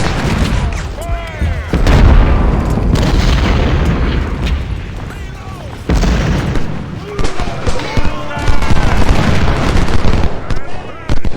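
Massed musket volleys and booming cannon fire from the Civil War video game Ultimate General Civil War at the Battle of Fredericksburg, a loud, dense, continuous barrage of cracks and blasts, with someone talking over it.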